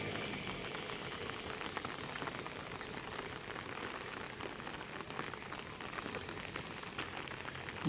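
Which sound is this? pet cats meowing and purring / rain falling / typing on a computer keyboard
rain falling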